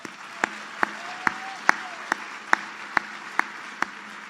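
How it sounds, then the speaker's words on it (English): At a Veterans Day address, the audience applauds Grace with evenly spaced, sharp claps in a steady rhythm over a soft wash of background clapping. "Just another round of applause for Grace, please."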